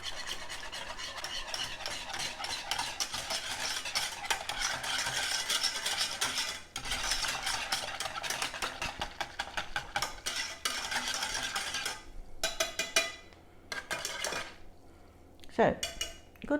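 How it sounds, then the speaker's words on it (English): A big whisk beating hot chocolate dry mix in a pan, rapid rhythmic metallic scraping and clinking against the pan for most of the stretch, then slowing into a few separate taps and knocks near the end. "Because I'm mixing it in the pan, I'm just using my big old whisk."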